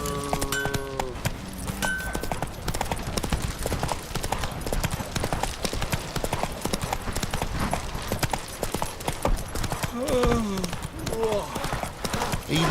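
Roach the horse's hooves clip-clop in a steady trotting rhythm in The Witcher 3 video game, with game music, a few whinnies and a voice talking over the hoofbeats.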